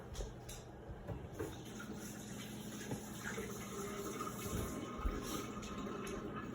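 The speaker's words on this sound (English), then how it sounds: "I'm gonna rinse my hands real quick." Hands rinsed under a running kitchen tap while making potato gnocchi, a continuous faint stream of water splashing, with no talking.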